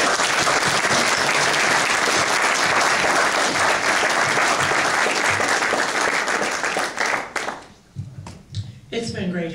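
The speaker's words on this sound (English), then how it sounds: "I'd like y'all to give them a round of applause." A crowd at an evening gathering gives loud, dense applause that holds steady for several seconds, then breaks off abruptly as a voice begins speaking.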